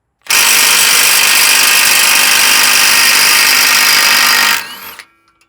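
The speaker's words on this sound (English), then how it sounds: "This baby little gun right here, 12 volts, will take off that CV axle nut." A 12-volt Astro impact gun in power mode 3 removing a CV axle nut from a Subaru, one long continuous loud buzzing hammer lasting about four seconds, close, then winding down to silence.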